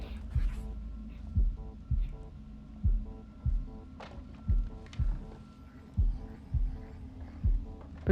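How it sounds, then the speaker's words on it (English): A slow, steady heartbeat in the horror game Little Hope, with about a dozen deep thumps at a regular pace under a low hum and faint ambient tones. "Because you're focusing on the heartbeat"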